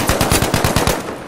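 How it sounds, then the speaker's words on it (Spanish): Machine gun fire in the Battlefield V video game, a loud, rapid burst of about ten evenly spaced shots that cuts off abruptly, with no voices over it. "creo que me están disparando ahora"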